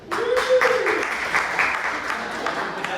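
Audience applause at a comedy murder mystery show, many hands clapping steadily at moderate loudness for about three seconds, with a brief cheer or voice near the start.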